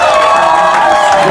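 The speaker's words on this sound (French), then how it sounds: "On applaudit pour lui." Guests at a civil wedding ceremony in a town hall cheer and applaud the groom, a dense, loud crowd sound of clapping mixed with voices for over a second.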